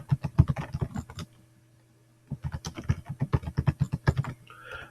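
Typing on a computer keyboard, quick clusters of close, crisp key clicks in two bursts separated by a short pause, with no talk.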